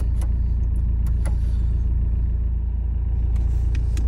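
A car drives slowly out of a flooded car park at Womack Staithe in Norfolk, its steady low engine rumble continuous and close, with a few faint splashes and clicks on top.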